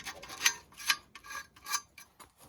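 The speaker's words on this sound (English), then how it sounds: "got my sandpaper. Now I'm gonna go ahead and take this thing all the way to bare metal." Sandpaper rasps over metal to take it down to bare metal, a few short rhythmic rubbing strokes that are close and fairly quiet, with no voices.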